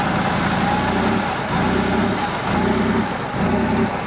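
A Porsche 3.2 Carrera engine idles a little too high at around 1,100 RPM, a loud close steady rumble with an even pulsing beat throughout and no voices.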